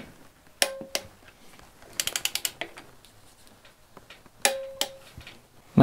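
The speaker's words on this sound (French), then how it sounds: "Et je serre à 23 Nm." A ratcheting torque wrench tightens diesel injector bolts to 23 Nm. Close, rapid clicks come in short bursts, with a few sharper metallic clacks between them.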